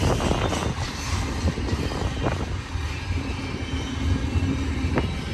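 BNSF freight train climbing to Cajon summit, a steady rumbling locomotive and rolling-wagon drone heard from nearby, continuous and loud with faint squeals, no voices.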